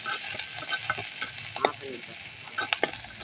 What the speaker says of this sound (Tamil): இந்த ஆயில் ஊற்றி வணக்கிட்டு இருக்கேன்